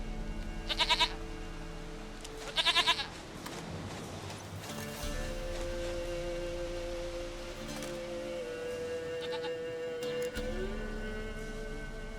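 A goat in the video game The Witcher 3 gives two short, near bleats, one after the other, over a steady ambient game soundscape. Fainter tonal game sounds follow.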